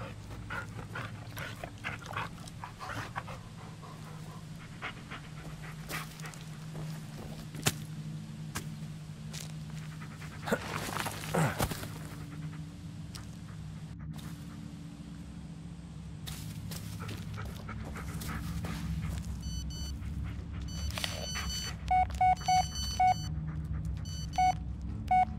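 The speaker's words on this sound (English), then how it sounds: "Good dog." A dog in the video game Blair Witch pants steadily and whimpers softly up close over a low ambient drone, with a few faint electronic beeps near the end.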